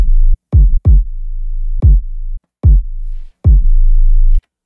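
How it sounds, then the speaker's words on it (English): An 808 bass with automated sidechain compression keyed from the kick, in an FL Studio beat: sustained sub-bass notes repeatedly cut off by sharp kick hits, producing a choppy, pumping rhythm of about seven punches, loud and alone. "So you can see the kick piercing through and removing the 808."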